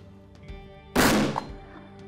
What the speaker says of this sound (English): Aiming at the same place, firing.